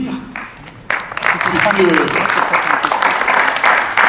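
Audience applauding accordionist Josiane Vibourel at a poetry event in Vallauris: a dense wash of clapping swells in after a short pause and holds steady to the end, with a voice speaking briefly near the start.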